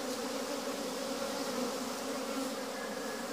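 Honey bees hum steadily in an opened two-story hive during an inspection, a dense continuous buzz with no voices.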